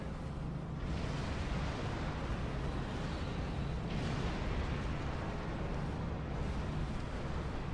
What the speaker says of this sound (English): you'll have these explosions, and if you actually get caught in one, it can destroy your ship